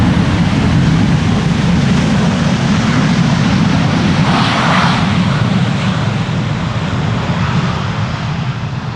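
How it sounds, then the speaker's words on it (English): Airliner landing at Amsterdam Schiphol in a crosswind with thrust reversers deployed, a loud, steady roar of engine noise with heavy low rumble that fills the whole stretch and eases slightly toward the end. "Oh, reversers being used, nice"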